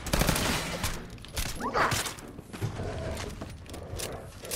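Gunfire in the Fallout 4 video game, dense rapid shots and clattering mechanical noise running almost without a break.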